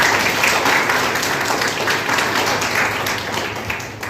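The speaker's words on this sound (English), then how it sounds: "So hats off to our big clapping for her." An audience at a Jammu school's International Women's Day event claps for the school principal, a loud, dense, sustained round of applause that holds steady and eases off slightly toward the end.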